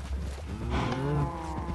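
Cows moo in the Minecraft video game, several drawn-out low calls that overlap in a steady run inside a cattle breeding pen, fairly close and alone with no talk.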